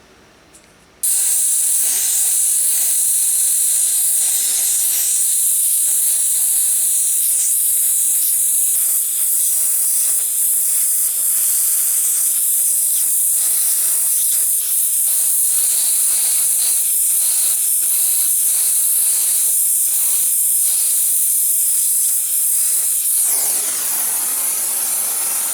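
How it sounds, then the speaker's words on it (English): A small oxy gas welding torch roars with a steady, loud hiss as it heats metal for bronze welding with flux coated hard bronze wire, starting abruptly and holding constant before easing near the end. "This little oxy mat welding set's pretty useful, really."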